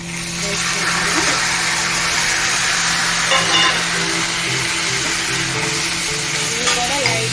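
Broad bean seeds fry in hot oil with green chillies for a curry, a steady close sizzle that stays loud and even throughout, with brief stirring scrapes and no talk.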